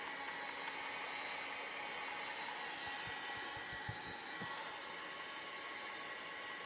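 Steady close hair dryer blowing nonstop to dry chalk art on a craft mat, a broad even airy roar with a few faint low knocks partway through.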